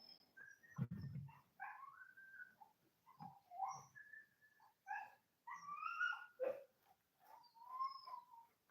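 A dog whimpers and yips in high, thin whines, a series of short plaintive cries spread across several seconds with quiet gaps between them, fairly faint and without talk.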